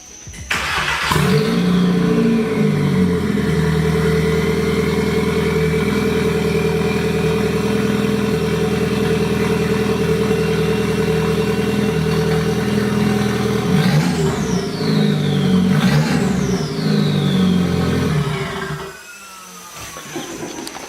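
A 2003 VW Jetta 1.8 turbo, straight-piped, idles loud and raspy up close, holding a steady drone before two sharp revs near the end, then the engine drops away.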